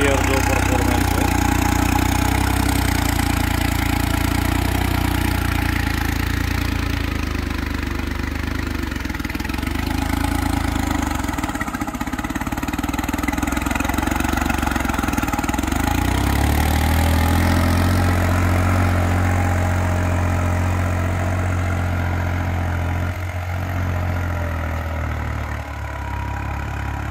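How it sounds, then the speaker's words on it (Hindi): A 3630 Special Edition A6 four-wheel-drive tractor running in a village: a loud, steady diesel drone with low knocking tones that shift in pitch as the load changes, with voices in the background. "ना किसी दाब के ट्रैक्टर खुल के चल रहा है।"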